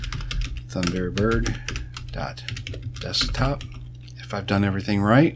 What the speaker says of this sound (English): and then I'm going to type in the file name